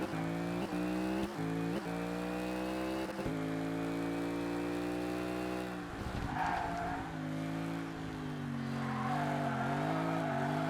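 A Ford Mustang race car in the ToCA Race Driver 2 video game roars at a steady high engine pitch through gear changes, then its tires squeal as it is flicked around a corner with the handbrake, loud and close, with no talking.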